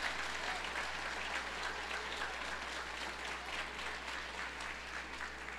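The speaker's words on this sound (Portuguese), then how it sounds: "Aplauda o Senhor" A congregation at a church service applauding, with steady, even clapping that sounds fairly distant and faint over a low constant hum.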